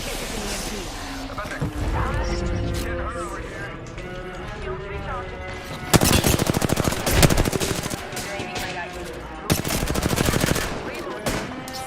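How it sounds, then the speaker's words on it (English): Video game gunfire: sustained bursts of automatic weapon fire ring out loudly in several volleys, with quieter shots and in-game sounds between, under a player's running speech and game voice callouts. "Darn shots fired and they're hitting me."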